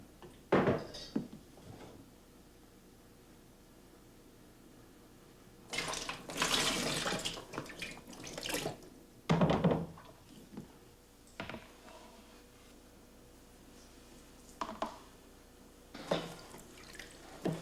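Sulfite sterilizing solution is poured back into a 4-litre container in intermittent bursts of splashing and gurgling liquid, with quiet pauses between pours and a few small drips, close by.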